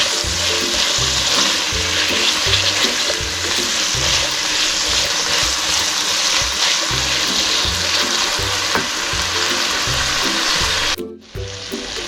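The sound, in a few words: potatoes and peas frying in oil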